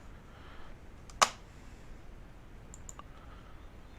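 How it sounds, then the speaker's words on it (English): Computer keyboard keys being pressed, a single sharp click followed by a few faint scattered taps in a quiet room. "I type in the name ASD"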